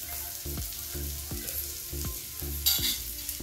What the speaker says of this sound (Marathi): 5 आवळे घेतलेले होते, हे पण आपण चांगलं परतून घेऊया